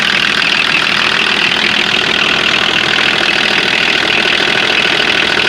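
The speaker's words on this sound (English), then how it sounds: "this is stock number 5-104J, a 1985 BMW 524TD turbo diesel" A 1985 BMW 524TD turbo diesel idles close by, loud and steady, with a continuous rough diesel clatter and no voices.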